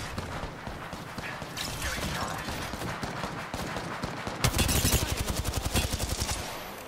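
Rapid gunfire in the Apex Legends video game: bursts of automatic shots build up to a dense, loud volley of evenly spaced rapid cracks near the end, with game noise underneath.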